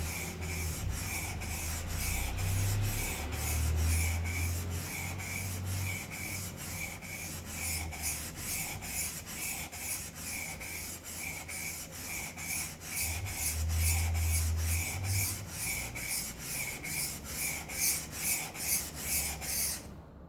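A Japanese hand plane blade honed on a sharpening stone, a steady rhythmic scraping and rubbing of steel on stone, close and continuous with regular back-and-forth strokes and no talking.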